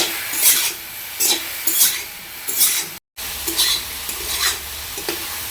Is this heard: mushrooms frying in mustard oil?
yes